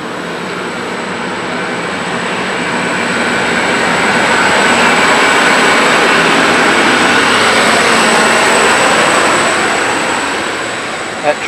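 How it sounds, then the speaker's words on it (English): A Sydney suburban train departs from the platform, rumbling past with a broad, swelling roar that builds to a peak and then eases, loud and continuous, no voices. "N8 is now departing on platform number 2."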